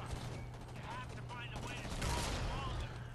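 Shotgun blasts and weapon handling in the video game Homefront: The Revolution, a rapid run of loud mechanical bursts with an excited voice shouting over the gunfire.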